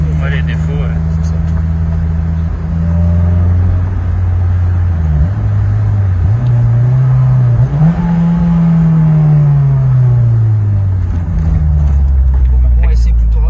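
A Honda convertible sports car driven at speed with the top down, its engine droning and shifting pitch as it accelerates and changes gear, loud wind rush around it and people talking over the noise.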